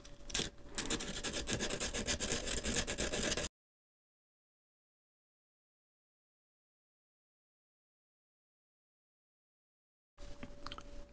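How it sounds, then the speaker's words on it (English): Sandpaper scrapes the coated metal surface of a li-ion battery cell for a DIY pack: a close, rapid rasping burst of about three seconds, a long silent pause, then another short stretch of scratching. "simply scratching the surface with a bit of sandpaper is all you need to do"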